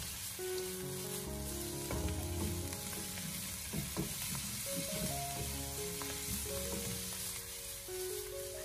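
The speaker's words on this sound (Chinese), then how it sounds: "接着再把焯过水的青菜放回锅中，然后再调为大火，给它快速的翻炒几下" Blanched Chinese broccoli stir-fried with ginger and garlic in a wok over high heat: a loud, continuous sizzle with repeated tossing and spatula scrapes, close by, while a soft melody plays underneath.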